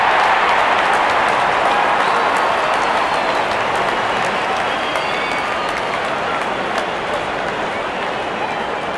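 A good crowd at a Pakistan versus Bangladesh Test cricket match cheers and applauds as the opening batsmen walk out, a dense, steady roar of clapping and voices that fills the whole stretch.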